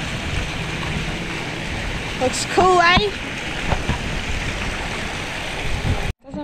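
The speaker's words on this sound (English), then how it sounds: "Look at this waterfall." A waterfall beside a bridge in Brisbane flows with a constant, rushing hiss of falling water, while a person briefly speaks over it near the middle.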